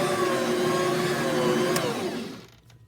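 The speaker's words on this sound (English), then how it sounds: "Machine को और 1-2 minute I'm just gonna run" A stand mixer kneads soft eggless bun dough with a steady motor whir, then winds down and stops near the end.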